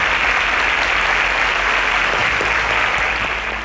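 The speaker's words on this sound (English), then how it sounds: "Round of applause for them." An audience at a televised children's quiz show semi-final applauds the contestants with a loud, dense, continuous roar of clapping that holds steady and begins to ease at the end.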